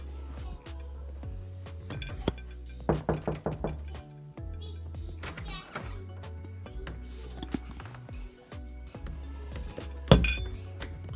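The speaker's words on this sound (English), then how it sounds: "Knock, knock, knock." Knuckles rap on a home door in several short knocks, a close burst of clustered raps midway and a sharp loud knock near the end.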